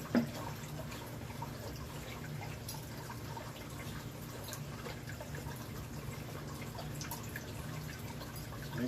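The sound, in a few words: water poured onto coconut fiber reptile bedding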